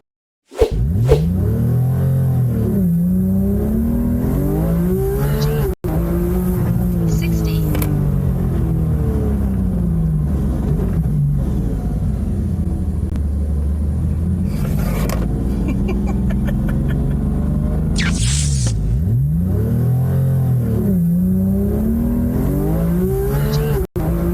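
A Porsche GT3 engine roars and revs hard as it accelerates to about 60 mph, pitch climbing through several gear changes, loud and close throughout.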